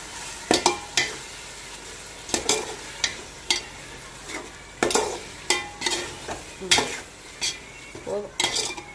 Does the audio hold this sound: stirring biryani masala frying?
yes